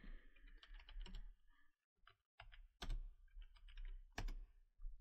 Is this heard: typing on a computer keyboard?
yes